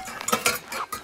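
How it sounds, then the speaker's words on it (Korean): Silver plates and silver cutlery clink and clatter as they are shoved into a backpack, a few close, sharp metallic jingles and knocks in quick irregular bursts. "저녁에 봐두었던 은접시 은식기를 몰래 배낭에 쑤셔 넣었다"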